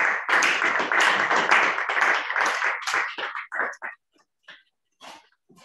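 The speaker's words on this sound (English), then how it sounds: "Can we give her a round of applause?" Audience applause for a guest speaker at a mentoring session, a burst of close clapping that is loud at first, then thins to a few scattered claps before stopping.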